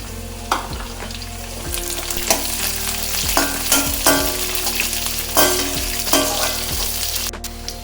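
Onions and capsicum sauté in a pan for chilli parotta, giving a steady close sizzle with rhythmic scraping stirs roughly every second.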